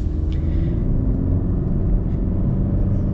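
A 2024 Honda Civic EX-L's turbocharged engine pulls with a deep, even rumble from inside the cabin, steady and moderately loud over a few seconds.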